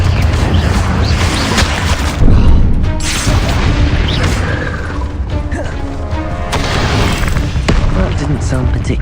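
Confringo fire spell explosion in the video game Hogwarts Legacy, a loud burst over dense, continuous battle noise with booms and crashes, under ongoing game audio.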